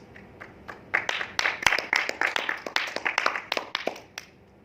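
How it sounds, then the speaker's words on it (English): Audience applause at a public speaking event, a modest scattering of sharp individual claps that swells and then thins out, fairly quiet and brief. "let us give him a huge round of applause"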